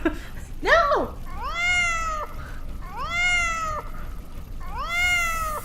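Apollo, a cat in the video game Born Punk, gives three drawn-out, rising-and-falling meows spaced a second or so apart, clear and close, with a brief higher cry just before them.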